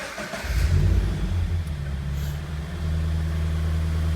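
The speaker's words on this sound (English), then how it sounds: "So let's quickly start it up." A Toyota GT86/Subaru BRZ engine cranks and fires up, briefly revving before settling into a steady, close idle.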